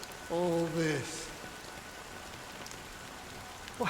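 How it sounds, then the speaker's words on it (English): Rain falls in the video game Honkai Star Rail as a continuous soft patter under a brief voice near the start and another at the end. "it's still raining."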